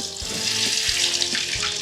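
Food sizzles and bubbles vigorously in a pan, a steady hissing fry with soft pops and a few low thumps, close and fairly loud, with no talking.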